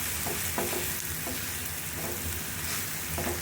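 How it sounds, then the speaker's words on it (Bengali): Onion and garlic frying in oil with a little salt, a steady close sizzle broken by a few soft stirring scrapes throughout. "আমি পেঁয়াজ রসুনটা ভেজে নিচ্ছি আর একটু লবণ দিয়ে দিচ্ছি"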